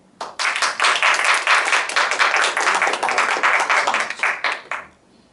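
A live audience gives steady applause for a company CEO about to be interviewed, a dense run of clapping lasting nearly five seconds before it quickly dies away.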